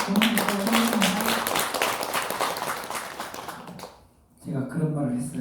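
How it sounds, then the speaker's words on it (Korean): An audience at a Buddhist temple dharma lecture on the Heart Sutra gives sustained applause with a voice over it. The clapping fades to near silence before speech resumes. "큰 박수로 선생님 도움드리도록 하겠습니다."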